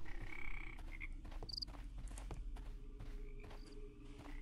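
Frogs croak repeatedly in a game scene from Sherlock: Crimes and Punishments, short chirping calls scattered over a steady ambient bed with a few soft thuds and footsteps.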